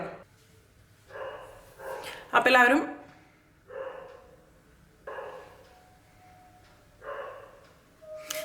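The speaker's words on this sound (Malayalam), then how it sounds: "ഞങ്ങളുടെ അപ്പുറത്തെ ഫ്ലാറ്റിലെ പട്ടി നല്ല കുരയാണ്" A dog in a neighbouring flat barks repeatedly in short bursts, a few seconds apart, somewhat distant, while a person talks over it.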